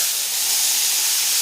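A loud, steady sizzling hiss of raw plantain slices frying in hot oil in a pan, constant and close throughout.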